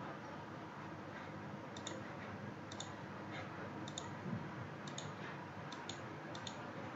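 A computer mouse clicking during structural modeling work in Dlubal RFEM, giving about a dozen sharp faint clicks, many in quick pairs, spread irregularly over a soft steady background hiss, with no talk.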